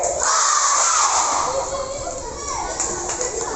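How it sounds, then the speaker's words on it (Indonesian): Children at an elementary school gathering shout together in a loud burst of cheering, then their mixed voices carry on as a noisy crowd. "Kalau kau suka hati bilang hore."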